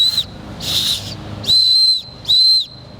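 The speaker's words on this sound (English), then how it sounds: "Also has a whistle on the lanyard." A whistle hanging from a lanyard is blown three times in short, shrill bursts of roughly half a second each, close by, with a faint hiss between blasts and no talking.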